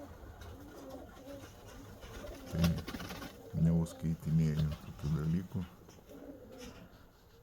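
Pigeons cooing at dusk, several soft rolling coos in a row up close, with someone talking over and between the calls.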